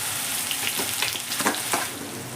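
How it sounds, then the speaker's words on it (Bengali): A ginger spice paste frying in a pan over a low gas flame gives a dense, steady close sizzle with a few soft pops and stirring touches, and no voices. "দেখুন মশলাটা আমার ভাজা হয়ে গেছে যেহেতু মশলাটার মধ্যে আদা আছে আমি কিন্তু এর থেকে বেশি ভাজবো না"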